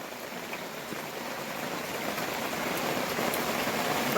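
Steady rain patters down continuously, a dense hiss of drops that gradually grows a little louder, with no voices.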